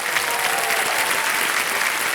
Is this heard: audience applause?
yes